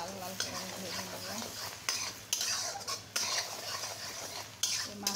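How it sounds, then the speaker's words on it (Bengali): Chopped onion frying in a pan, with frequent metal spatula scrapes and clinks over a low, steady sizzle, close and fairly quiet. "এখন পেঁয়াজটা সুন্দর করে লাল লাল করে আমি ভেজে নেব"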